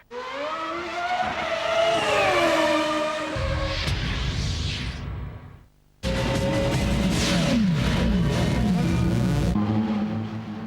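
Renault Clio Sport Trophy race cars from 2002 compete at the Jarama circuit, with loud engines revving and roaring past and tires squealing. The noise dips briefly near the middle, then the engines surge back in full.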